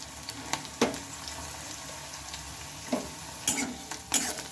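Chopped garlic fries in a pan with chilies, a low continuous sizzle punctuated by several sharp stirring scrapes and clinks at irregular intervals.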